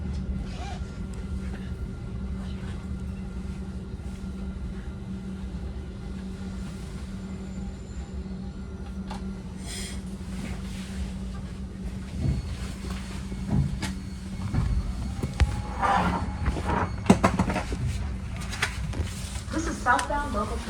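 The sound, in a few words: Caltrain southbound local train pulling into station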